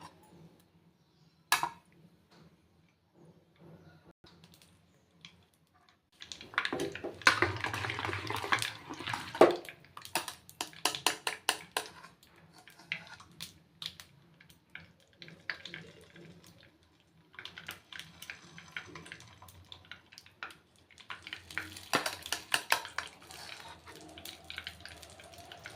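Karthigai appam batter fries in ghee with a soft, faint sizzle that swells into busier crackling bursts partway through, with quiet gaps and occasional utensil clatter between them.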